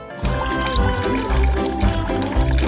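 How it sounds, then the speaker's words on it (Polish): Water poured steadily into a pool, a continuous splashing gurgle lasting a few seconds at close range with no voices. "A teraz ostrożnie polejecie wodą."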